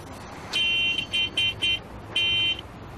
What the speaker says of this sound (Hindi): हाय, ये हॉर्न, इसको भी यहीं बजाना है।